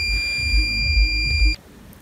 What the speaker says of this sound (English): This is alarm, buzzer's alarm.